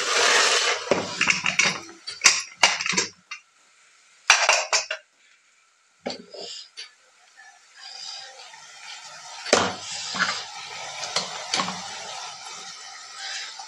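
A pressure cooker of cooked chickpeas is opened, with metallic clanks, clinks and scraping of the lid and pot in bursts separated by quiet gaps.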